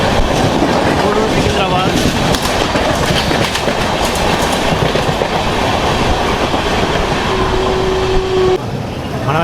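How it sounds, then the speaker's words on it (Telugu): The Simhapuri Superfast Express rumbles past loudly and close, a dense continuous roar with rhythmic wheel clatter, a sustained horn note near the end, and a voice speaking briefly over the noise. "మన ఎదురుగా చూసుకుంటే సింహపురి సూపర్ ఫాస్ట్ వస్తుంది."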